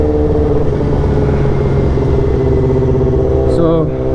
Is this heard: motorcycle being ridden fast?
yes